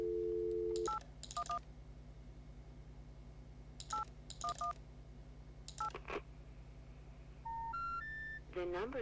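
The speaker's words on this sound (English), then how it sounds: "I thought I was dialing 911, but actually it's only a combination." Telephone dialing tones sound in the video game Kentucky Route Zero: a steady tone, then several groups of short two-note DTMF beeps, a rising three-note signal and a final burst of tones, all loud and clear.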